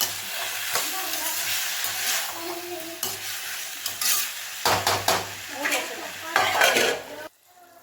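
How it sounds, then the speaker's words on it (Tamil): Chopped tomatoes for a tomato thokku are stirred and mashed in a hot pan: a continuous sizzle under repeated scraping and clinking strokes of a spoon against the metal, close and fairly loud. "தக்காளி நல்லா இந்த அளவுக்கு நல்லா கொத்தி விடணும்."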